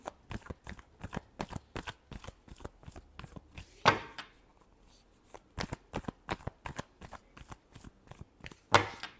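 Tarot cards shuffled by hand in a steady run of crisp riffling slaps, close and fairly loud, with two sharper louder bursts partway through and at the end; no speech.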